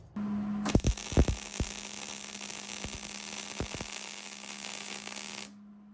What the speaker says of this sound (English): I'm going to now complete the welds.